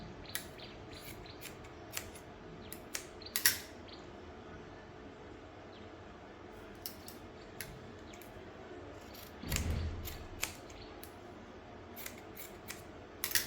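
Scissors snip through fabric for neck taping in a quiet room, a string of sharp crisp cuts at irregular intervals with a short rustle of cloth midway, close and clear with no talking.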